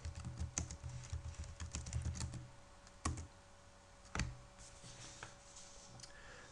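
Commands being typed on a computer keyboard while installing software on Linux: quiet, irregular key clicks come in quick runs, with a few heavier isolated keystrokes standing out against a faint steady hum.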